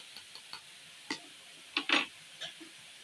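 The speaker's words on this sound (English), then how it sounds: "Mix, you must to mix it." Whole egg, egg yolk and cheese being whisked together in a bowl for spaghetti carbonara, a series of quiet, irregular clicks and taps of the utensil against the bowl, close and alone.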